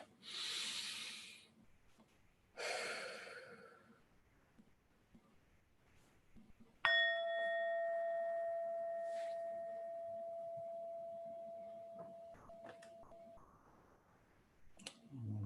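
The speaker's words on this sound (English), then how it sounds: "I like this bell. It's a reminder to start and stop a moment of mindfulness." A mindfulness bell is struck once, ringing out with a clear sustained tone that fades slowly over several seconds, preceded by two long audible breaths and followed by quiet.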